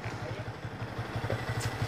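A motorcycle engine idles close by while being set up, a rhythmic low putter of regular pulses with a brief rev swell near the end and people talking in the background.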